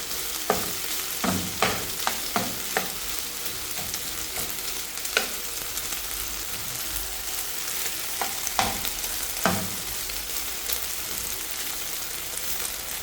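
Steak sizzles in a pan with a loud, steady frying hiss, and hot grease pops and crackles in scattered sharp bursts throughout, close by, with no voices.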